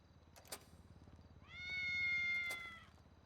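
A cat in the video game GTA V gives one clear, drawn-out meow at moderate distance, standing alone over faint background game noise.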